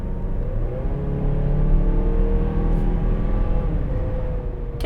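A turbocharged engine in a 2023 Mazda CX-5 SUV accelerating as the automatic transmission kicks down, a loud steady rising drone with tonal whine heard from inside the cabin, with no talking.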